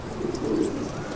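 A pigeon cooing in a low, soft, continuous throaty murmur, close by, over light background noise in Kabul.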